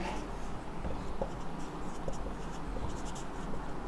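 A pen scratches continuously across paper at close range, with faint scraping strokes over quiet room tone, as a biology definition of mitosis is written out.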